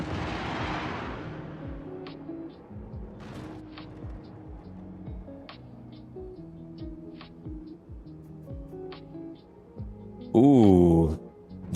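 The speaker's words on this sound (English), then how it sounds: "those set of missiles did some damage" Missiles exploding against a ship in a space combat video game, a loud roaring burst of impacts near the end after a stretch of quieter game music and faint thuds.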